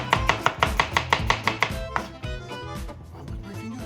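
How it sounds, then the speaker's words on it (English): A knife slicing vegetables finely on a cutting board in a French cooking class, about a dozen quick, even chops in a rapid rhythm that then slow and fade, with no talk. "after just slice them finely"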